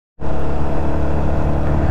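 Motorcycles riding toward Lake Duminagat in Don Victoriano, Misamis Occidental, cut in abruptly as a loud, close, steady engine drone that holds continuously.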